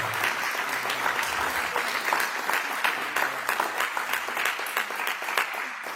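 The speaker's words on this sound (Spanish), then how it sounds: "denle un fuerte aplauso a Jesús" A church congregation claps together after a call to praise Jesus, a steady, dense wash of applause lasting the whole stretch at even loudness, with no speech over it.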